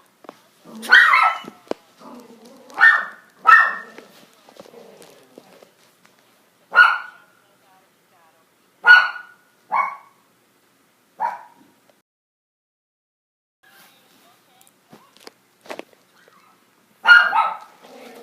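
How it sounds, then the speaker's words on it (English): Dogs bark in several separate bursts, some doubled, fairly close and loud, with quiet gaps and faint sounds between them in a home setting. "I'm going to take a 2-second break to do something about my dogs."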